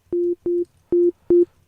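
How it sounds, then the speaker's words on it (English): Pure sine-wave tones from Ableton Live's Operator synth, four clean steady beeps of equal pitch with short gaps, each starting with a click, loud and alone. "So this is a sine wave."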